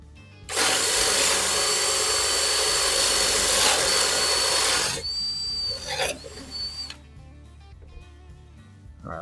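A power drill with a Forstner bit whines loudly and steadily for several seconds as it bores through wood, then cuts out and briefly restarts before falling quiet.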